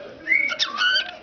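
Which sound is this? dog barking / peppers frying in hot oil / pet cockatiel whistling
pet cockatiel whistling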